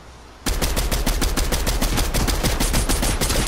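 Explosive rifle fire in an online shooter game: rapid, loud repeated shots begin abruptly after a brief quiet moment and continue as a steady, dense burst of gunfire with no talking.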